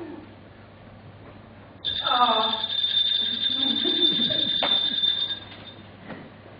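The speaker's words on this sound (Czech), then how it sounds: "Někdo zvoní." A sustained electronic doorbell ringing tone sounds for about three seconds, loud and steady, with a voice speaking briefly underneath before it stops.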